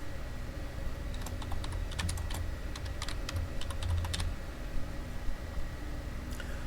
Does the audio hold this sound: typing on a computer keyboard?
yes